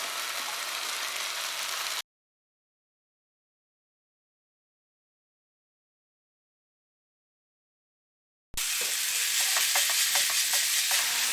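Chopped cabbage, capsicum, carrot and beans are stirred into tomato frying in a pan. A brief sizzle gives way to a long silent gap, then a closer sizzle returns with scraping, clicking stirs.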